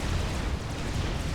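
Continuous heavy weapon fire and explosions from an ACU in the strategy game Supreme Commander: Forged Alliance, a dense, steady rumbling barrage of booms and blasts with no pauses.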